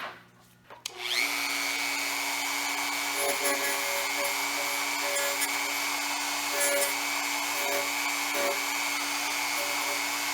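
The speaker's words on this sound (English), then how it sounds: "I'll use a cut-off tool for that." A high-speed cut-off tool whines steadily as it trims protruding plastic hairs from a repaired headlight. It starts with a brief click and spin-up, then holds a loud, continuous pitched drone with slight wavering.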